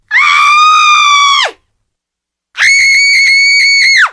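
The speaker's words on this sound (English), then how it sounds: "Did you hear her scream?" Two long, loud, sustained screams from a woman in a staged performance of Euripides' Orestes, each about one and a half seconds, separated by a short silence, with no talk over them.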